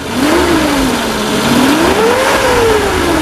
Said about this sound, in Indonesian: Jadi kita geber pun suaranya dia masih tetap halus